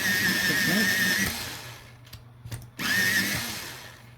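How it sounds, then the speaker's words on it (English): A colored pencil turning in a small mechanical sharpener gives a steady grinding whir in two bursts, one long and one shorter after a brief pause, close and fairly loud with no talking. "Going to the darkest color, and I should sharpen the"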